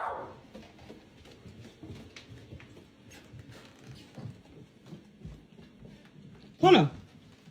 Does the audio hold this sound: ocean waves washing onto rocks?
no